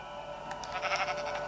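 A sheep in Minecraft gives a short bleat, moderately loud and close, over a constant low background drone.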